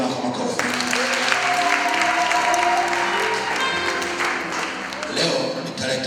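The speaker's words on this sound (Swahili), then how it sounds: "shangilia Bwana kwa makofi." A church congregation at an Anglican Sunday service claps their hands together in praise, a loud, sustained ripple of applause filling the hall for several seconds, with voices mixed in beneath it.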